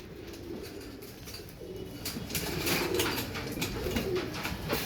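A pair of dub pigeons coos softly in a loft, the low burbling calls continuing through the stretch with faint rustling and no talk.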